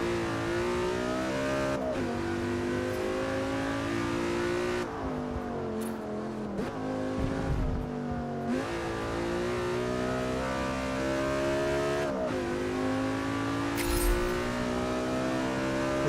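A car with a seven-speed gearbox revving hard and accelerating through several gear changes, engine pitch climbing and dropping with each shift, loud and close with a throaty roar and no voices.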